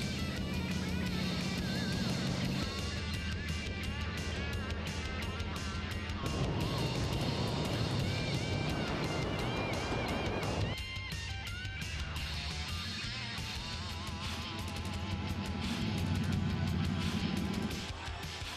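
A race car laps the Indianapolis Motor Speedway Brickyard oval, its loud engine note rising and falling in broad sweeps as it passes and recedes, with a steady droning roar throughout.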